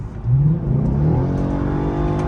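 A Genesis Sedan 4.6 fitted with a throttle controller accelerates, its V8 engine rising from a low rumble into a brief, strong surge of revs, heard close and alone.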